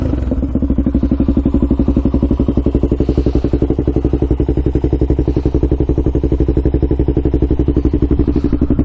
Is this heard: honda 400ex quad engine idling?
yes